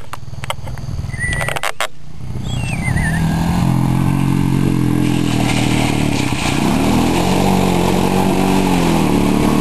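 A Honda 400EX quad revs hard while churning through mud ruts, a loud sustained engine roar that rises and falls in pitch, preceded by a few sharp knocks and clatter, with no voices.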